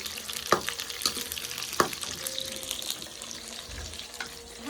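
Eggplants frying in a pan give a soft, crackling sizzle, broken by a few sharp clicks from a utensil against the pan.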